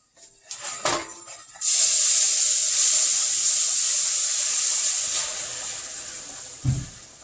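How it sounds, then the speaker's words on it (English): Milk poured slowly into butter browning in a pan for macaroni and cheese sets off a loud, steady hiss and sizzle that swells suddenly and holds for several seconds, then eases slightly, with a couple of soft knocks before and after. "Okay, my butter's browning over here. I'm going to slowly add my milk."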